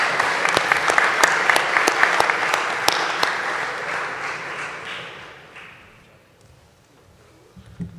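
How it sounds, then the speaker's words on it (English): Applause for a middle school team at an honors ceremony, a room full of steady clapping with sharp individual claps, fading out gradually toward the end with a brief faint noise at the close. "one more round of applause for our middle school team"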